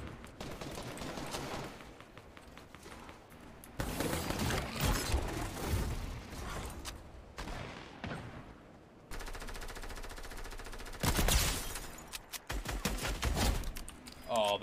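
Minigun fire in an online battle video game, long sustained rattling bursts broken by short pauses, loud and close, with talk over parts of the shooting.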